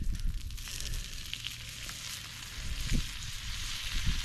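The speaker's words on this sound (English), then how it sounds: "I love the sizzle." Food for people and a dog sizzles on an outdoor cooking surface, a faint continuous crackling hiss with soft low pops and occasional handling knocks.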